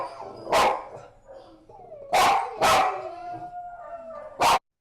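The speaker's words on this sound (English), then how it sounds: "This is Lucy barking" A dog named Lucy barking in a kennel: four sharp, loud, close barks spaced irregularly, with quiet gaps and faint background noise between them.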